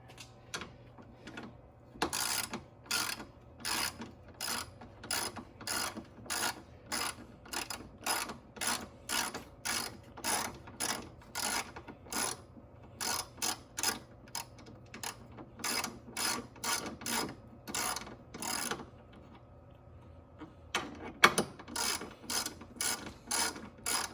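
A ratchet clicks in quick repeated bursts while someone removes the 10mm nuts holding the coolant overflow tank on an LQ1 DOHC V6 engine, steady and close with brief pauses between runs.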